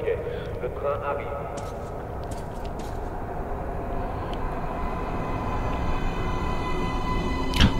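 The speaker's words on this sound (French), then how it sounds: "Le train arrive." In the video game Metro: Last Light, a driverless metro train rumbles in and arrives with a steady low roar and faint screeching, while a voice talks over it.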